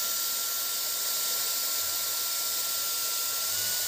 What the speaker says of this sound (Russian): фен включился.